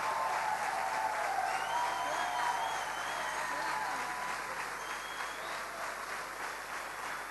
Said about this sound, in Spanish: escuchen el aplauso acá porque allá no lo van a escuchar todavía